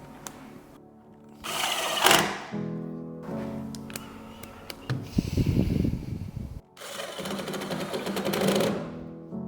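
A power tool drives screws while an electric extractor fan is fitted in an apartment kitchen, with several whirring bursts of a few seconds each and short pauses between them.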